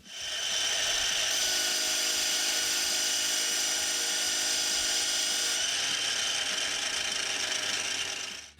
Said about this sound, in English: this is getting drilled to 12mm and parted to length